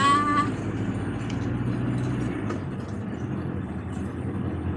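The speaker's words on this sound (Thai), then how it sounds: "ขับรถกินลมชมวิว ยาม กลางค่ำกลางคืน" A car cruising at night, its steady engine and road rumble filling the whole stretch at low, even loudness with no talk over it.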